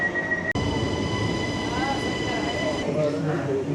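A single-deck passenger train rolls through Belgium with a steady, close interior rumble and a faint high whine, broken by one sharp click near the start and a shift in the running noise toward the end.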